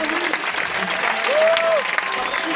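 An audience at a film premiere of Les 3 frères – Le Retour applauds in a dense, steady clapping wash that lasts the whole moment, with voices mixed in.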